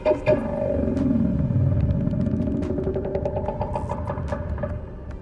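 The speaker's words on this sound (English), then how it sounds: "That is a crab squid" A crab squid creature from the underwater game Subnautica gives a deep, rumbling, throbbing growl with knocking pulses and faint high warbles, sustained and ominous for several seconds.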